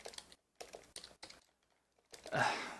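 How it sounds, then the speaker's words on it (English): Computer keyboard typing in short bursts of quick, faint key clicks separated by brief pauses, with a louder rustle near the end. "my typing is bad today"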